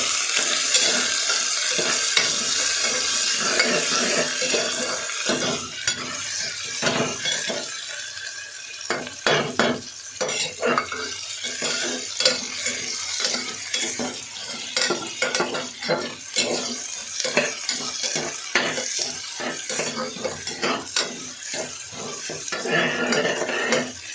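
Onions frying in a pan for mushroom biryani, a continuous sizzle broken by frequent clinks and scrapes of a spoon stirring against the metal pan, close and fairly loud throughout.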